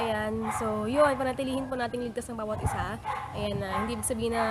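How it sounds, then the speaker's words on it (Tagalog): A dog yips and whines repeatedly in the background, its high, wavering barks recurring throughout while someone talks steadily over them indoors. "sorry sa ingay ng aso"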